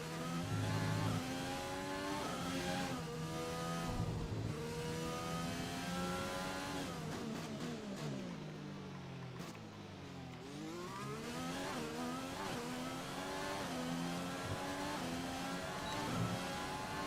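A Formula 1 race car engine in the F1 2020 video game at the Australia track screams loudly and continuously, revving up and down through gear changes and held near throughout.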